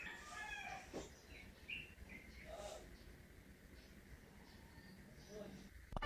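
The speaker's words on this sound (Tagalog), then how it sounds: "naririnig nyo naman ang mga huni ng mga ibon at tilaok ng mga manok ng aming kapitbahay" Birds chirping in the morning in a residential neighborhood, scattered faint tweets and short calls over a quiet hiss of background noise, with soft voices nearby.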